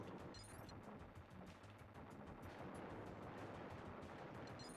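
Main cannon fire from the SNES game Time Slip, a dense, nonstop barrage of rapid retro blasts and explosions over a busy game soundtrack, steady and loud throughout.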